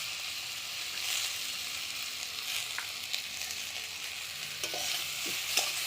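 Spice and ginger paste sautéing in a pan over a wood-fired stove, a steady soft sizzle with a few faint scraping stirs, close and even, with no talking.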